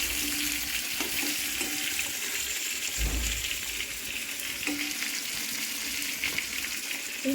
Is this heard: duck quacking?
no